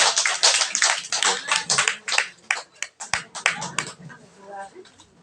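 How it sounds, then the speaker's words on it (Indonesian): Audience in a neighbourhood meeting on greening the kampung clapping for RT 1, a burst of dense, close applause that thins into scattered claps and fades toward the end. "Tepuk tangan dulu untuk RT 1."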